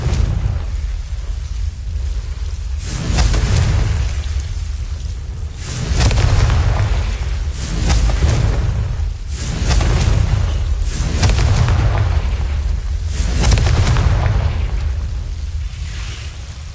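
Booming fire-spell explosions go off in a video game, a series of deep rumbling blasts arriving roughly every two seconds, loud and bass-heavy throughout.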